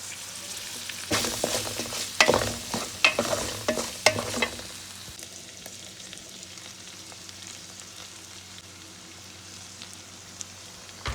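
Beef hitting hot oil in a pan for fried rice bursts into loud crackling sizzle with stirring clatter, then settles after a few seconds into a quieter, steady fry, heard up close.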